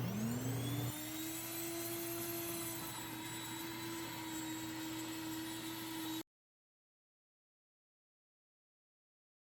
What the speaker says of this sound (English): Today we're going to be using my new classic grain mill.